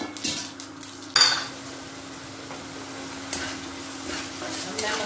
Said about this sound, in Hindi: इसमें मैं ये फोरन डालूंगी, जीरा, सरसों और मेथी का